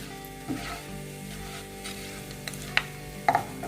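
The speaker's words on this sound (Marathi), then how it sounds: "आता याच्यात तेजपान, वेलची, मिरे, खडे मसाले परतून घेऊया." Bay leaf, cardamom, peppercorns and other whole spices fry in hot oil with crackling cumin for Punjabi dum aloo, a steady close sizzle broken by a few sharp pops and a stir near the end.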